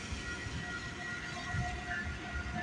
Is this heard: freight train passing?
yes